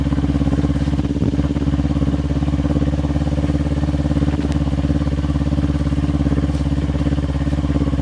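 A 2023 Kawasaki Ninja 400 motorcycle engine runs steadily and loud at close range with a throaty, even drone through the whole stretch and only slight rises in revs, no voices over it.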